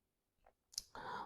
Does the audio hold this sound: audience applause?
no